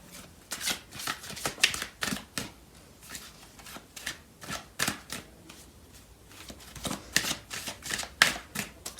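Tarot cards being shuffled and pulled from a deck, a run of soft, quick riffling and flicking bursts in an irregular rhythm, close and quiet, with no voice.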